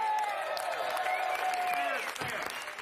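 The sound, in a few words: audience clapping at a panel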